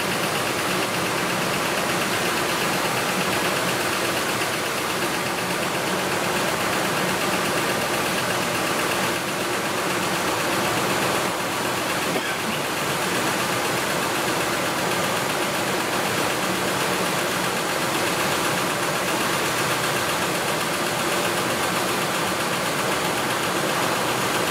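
A 2005 Ford F-150 truck engine idles steadily and loud throughout, with a continuous broadband rumble and a faint ticking valve train clatter running under it; no one speaks.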